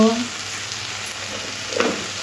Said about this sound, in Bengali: ঢ্যাঁড়স আর আলু ভাজা এইভাবে একবার হলেও বাড়িতে ভাজবেন